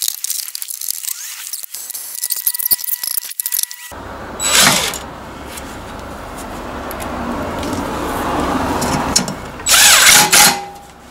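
Brake caliper bracket being removed from a Mercedes GLC43 with a power tool, giving harsh whirring bursts after some initial clicks and clatter, with loud peaks near the start and the end of the work.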